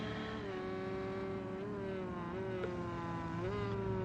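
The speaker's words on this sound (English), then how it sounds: "Curver 974 passes him there in his Ford" Ford race car in Project CARS on the Nürburgring GP circuit, a sustained engine drone with the pitch shifting up and down through gear changes and throttle, steady and moderately loud throughout.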